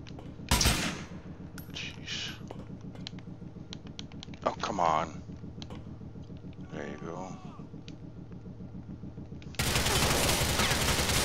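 Scattered gunshots in Grand Theft Auto IV, a few sharp cracks spread over a quiet stretch, with keyboard tapping and a person talking at times, ending in a louder noisy burst.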